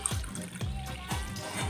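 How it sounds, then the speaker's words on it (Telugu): Water trickles and splashes from a glass into a pan of roasted semolina, several short pours in quick succession heard close and fairly soft. "3 glasses వాటర్ పోస్తున్నాం"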